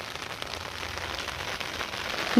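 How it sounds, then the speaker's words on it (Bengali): Heavy rain pours onto a rooftop garden in a dense, steady hiss of drops striking leaves and surfaces, close and continuous without a break. "যা আবার জোর বৃষ্টি চলে এলো"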